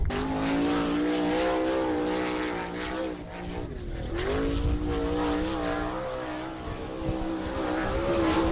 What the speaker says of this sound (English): Reed in the Rebar Die Casting sponsored car coming down for lap number 1.